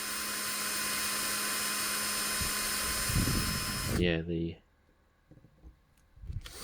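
A small drill bit whines steadily against a die-cast Matchbox Mercury Cougar casting for about four seconds, then stops abruptly, leaving quieter handling noises and brief speech.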